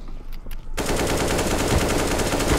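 Sustained rapid automatic gunfire from the video game CS:GO, a dense loud burst that starts abruptly after a brief quieter lead-in and continues steadily to the end.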